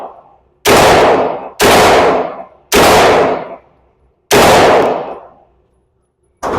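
Four loud, close gunshots ring out at an outdoor shooting range, each a sharp crack followed by a long decaying echo, spaced about a second apart, with a fifth starting at the very end.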